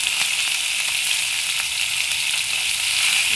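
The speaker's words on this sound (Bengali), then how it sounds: "দেখো, আমি কড়াইতে তেল দিয়ে মাছ দিয়ে দিয়েছি।" Tilapia fish frying in hot oil in a wok, a steady, loud, close hiss of sizzling that runs continuously with faint crackles and no voices.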